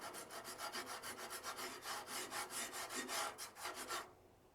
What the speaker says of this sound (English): So I'm going to go ahead and rub on it here a little bit.